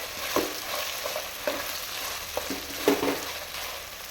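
Ginger garlic paste and green peas fry in a pan, a constant sizzle broken by a few sharp scrapes and clacks of a spatula stirring at irregular intervals.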